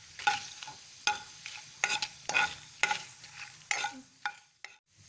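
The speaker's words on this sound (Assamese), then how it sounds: "পাঁচফোৰণ শুকান জলকীয়া ভাজা হৈ গ'ল" Panch phoron, dried chillies and bay leaf sizzle in hot mustard oil while a spoon stirs them, giving about eight sharp scraping strokes over a low, steady fry, close up and with no voices.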